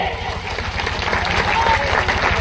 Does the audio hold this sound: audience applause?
yes